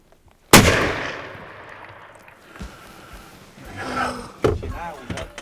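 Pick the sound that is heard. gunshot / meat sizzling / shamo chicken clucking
gunshot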